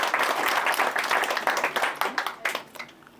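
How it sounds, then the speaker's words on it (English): A comedy show crowd applauds a young Romanian-German couple, a dense burst of clapping that stays strong, then thins and tapers off toward the end. "Round of applause for the young Romanian German couple."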